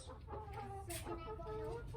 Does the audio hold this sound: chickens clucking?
yes